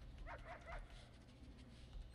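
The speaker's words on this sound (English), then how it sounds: "Dogs are sniffing someone down right now." Dogs from the Prison Architect video game, a few short yips and whimpery barks in quick succession early on, fairly soft over a low steady game background hum.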